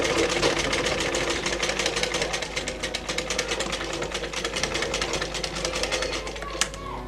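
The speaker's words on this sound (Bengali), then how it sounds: "এই ভাঁজ বরাবর এখন সেলাইটা করে ফেলবো" A sewing machine stitches a cloth face mask along a fold, running as a fast, steady mechanical chatter close up for the whole stretch, with one brief click near the end.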